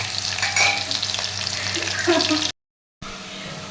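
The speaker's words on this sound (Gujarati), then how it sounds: "હવે વઘાર બનવાનું ચાલુ છે" A Gujarati tempering for homemade dhokla sizzles and bubbles in hot oil up close, cut off by a brief silent gap before the hiss resumes.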